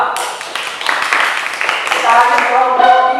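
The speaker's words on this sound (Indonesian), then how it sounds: "tepuk tangan untuk kelompok 2" Classroom applause for a student group after its presentation, a dense burst of many hands clapping at close range with voices mixed in.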